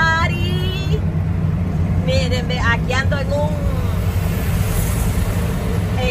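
Ford 350 truck on the road toward San Salvador, heard from inside the cab: a low, steady engine and road rumble runs continuously beneath someone speaking in Spanish.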